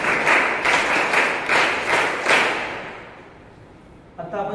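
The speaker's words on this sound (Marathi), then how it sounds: "एकदा सत्कार मूर्तीसाठी खूप जोरदार एकदा टाळ्या वाजवू द्या." Strong applause from an audience at a farewell ceremony for an honoree, with loud pulsing bursts of clapping that gradually fade out, then a brief voice comes in near the end.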